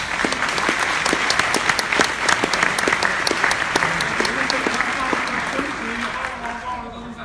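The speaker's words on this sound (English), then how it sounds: "can we give them a round of applause as well?" An audience claps for a group of entrepreneurs, dense sustained applause with sharp individual claps standing out, slowly thinning toward the end while a voice is heard.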